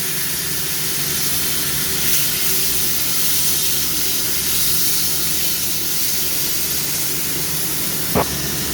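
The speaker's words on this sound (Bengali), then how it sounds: "চিংড়ি মাছ ভেজে নেব" Shrimp coated in salt and turmeric frying in hot oil, a loud, steady, close sizzle that hisses on without pause, with one short clank near the end.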